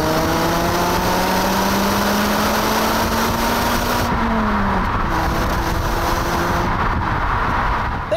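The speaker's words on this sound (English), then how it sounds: "Gonna have to use the gearbox, make this engine work." A Volvo C30's engine revs hard through the gears, its rising drone climbing in pitch, dipping briefly at a gear change around midway, then pulling up again, loud and close with no speech.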